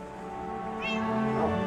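A cat meows in the Minecraft video game, a short synthetic meow rising over a steady background hum, brief and near.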